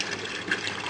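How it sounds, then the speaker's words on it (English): Water gushes at full flow from an aquaponics pump in a home siphon-test kit, a steady close liquid rush with slight gurgling. "Water is full flow from the pump"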